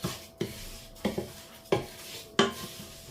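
Rice being stirred in a pot for a spinach and parmesan risotto, about 500 g of grain: four or five sharp scraping knocks of a utensil against the pot at irregular intervals, close and moderately loud, with no talking.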